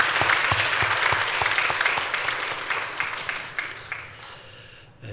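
A church congregation claps together during a Sunday sermon, a dense steady round of applause that holds for several seconds, then thins and fades toward the end.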